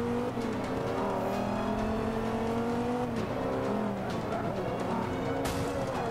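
A Ferrari hypercar in Forza 5 roars steadily with a high, sustained engine note that shifts pitch as it races past. It sits fairly loud and close amid continuous race noise, with no speech over it.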